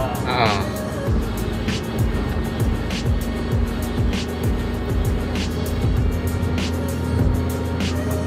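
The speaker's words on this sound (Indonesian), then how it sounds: "Kita gas itu akselerasinya ada terasa naik" Suzuki Karimun 2004 carbureted car engine revving steadily while driving in fifth gear, a continuous loud hum with road noise inside the cabin and occasional passing sounds.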